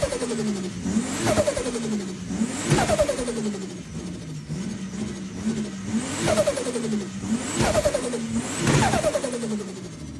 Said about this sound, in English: I'll put in a video now of me just revving it up here